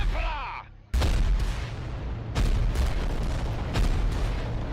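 Reaver titan volcano cannon firing in Adeptus Titanicus: Dominus, heavy booming shots with a sudden loud blast after a short tonal sweep, followed by sustained rumbling and further thunderous discharges.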